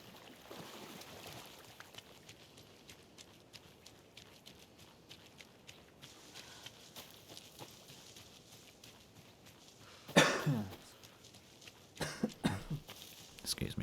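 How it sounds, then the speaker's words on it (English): One person coughs away from the microphone: a sharp, harsh burst around the middle, then a few smaller rough coughs near the end, all over quiet background noise. "I do cough away from the microphone, but it still picks up a bit of the sound"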